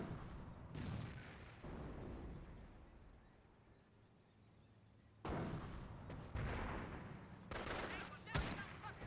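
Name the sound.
FG42 rifle gunfire in a video game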